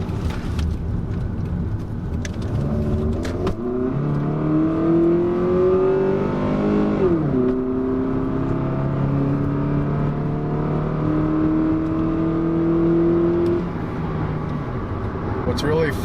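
A Toyota Corolla fitted with a four-point strut bar hums and climbs in pitch through a 30 mph turn without braking, dipping briefly then rising again as it accelerates steadily, with a voice talking over it.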